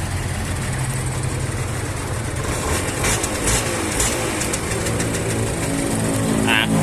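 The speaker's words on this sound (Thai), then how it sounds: "อันนี้คือเครื่องยังติดอยู่นะนิ่มมากเลย" An old Yamaha TZM motorcycle in original condition idles smoothly with a steady low engine drone, while someone talks over it and sharp clicks and rattles cut in now and then.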